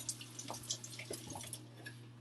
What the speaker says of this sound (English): take our famous pot and we are going to go fill it up with some water